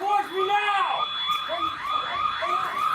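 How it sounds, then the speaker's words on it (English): Store alarm and sirens sound together in a loud, continuous wail with sweeping, rising and falling tones and a steady high whine, heard near and alone without speech. "the alarm from the store, the alarm from the sirens"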